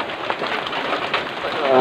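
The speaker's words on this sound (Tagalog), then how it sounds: "Ayan mga kaibigan, umuulan." Steady hiss of rain falling on a surface nearby, with a voice briefly audible toward the end.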